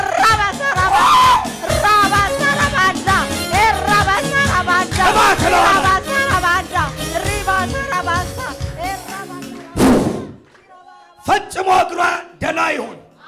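A church congregation ululates and claps in loud, dense bursts with overlapping voices, dropping to a brief near-silence before further shouts of ululation return.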